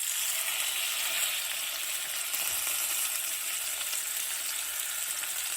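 Meat sizzles skin side down in a hot cast iron pan, a steady, loud, bright hiss that holds evenly throughout with no voices.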